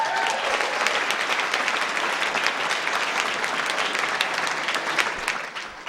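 A comedy club audience breaks into steady, dense applause that fills the room for several seconds without pause, with a faint murmur of voices underneath.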